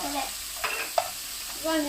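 Steady sizzling of noodles stir-frying in a pan with scraping and stirring, close and continuous.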